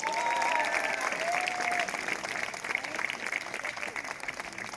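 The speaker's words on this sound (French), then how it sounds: "Les parents et les grands-parents sont fiers, ils applaudissent." A crowd of parents and grandparents applauds steadily at a coronation ceremony in Vence, dense continuous clapping from start to finish with no talking over it.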